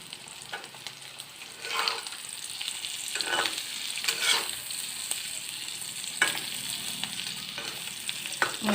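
Egg curry fries steadily in a pan, with a continuous close sizzle and repeated stirring scrapes spread through the whole stretch, no talk.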